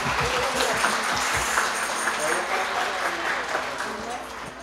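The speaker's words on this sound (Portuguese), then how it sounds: "eu peço uma salva de palmas para Jesus!" A crowd at a parish country festival with a Folia de Reis group claps in sustained, dense applause, loud and steady before tapering slightly, with a voice mixed in.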